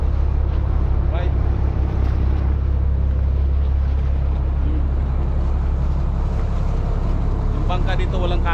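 A boat engine drones steadily and loudly nearby at the Port of Tabon ferry port in the Philippines, a constant low rumble with wind noise and faint voices mixed in.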